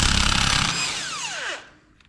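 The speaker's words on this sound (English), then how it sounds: "we're gonna go ahead and impact off this nut, and it is a 1 1/16 socket that we're gonna be using" An impact wrench with a 1 1/16 socket spins off a nut on a KRX front wheel hub, a loud close rattling burst that winds down to a stop near the end.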